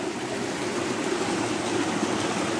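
Rushing river rapids pour steadily over rocks near a grotto, a loud continuous broadband wash of stream water with no letup.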